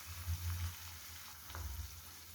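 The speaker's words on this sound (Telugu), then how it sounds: "వేగిపోయాయండి ఉల్లిపాయ ముక్కలు, అల్లం వెల్లిపాయ పేస్టు, పచ్చిమిర్చి అన్నీ వేగిపోయాయి" Onions, ginger garlic paste and green chillies frying quietly in a pan, a faint soft sizzle with a couple of low stirring thumps, heard alone and at low level.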